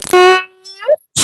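A voice imitates a sneeze in a children's story, giving a long drawn-out rising "aaah" that swells and ends in a sharp burst, followed by a brief loud noisy blast.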